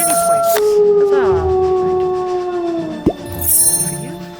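A drawn-out howl sound effect from the video game Fangtopia, a loud wavering tone that slides slowly downward, followed by a short plop and a fainter closing chime.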